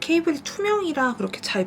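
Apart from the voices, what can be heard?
No distinct noise like a dog, phone or traffic.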